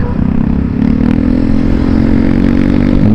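A Yamaha Mio scooter revs loudly at close range on a hot road, its engine droning steadily and rising slightly in pitch as it passes, with wind noise mixed in.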